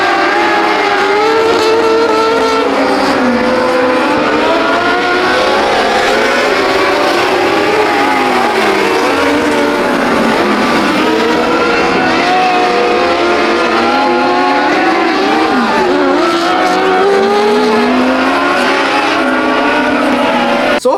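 A race car engine screams steadily throughout a race, rising and falling in pitch through gear changes, loud and continuous, with more cars roaring around it.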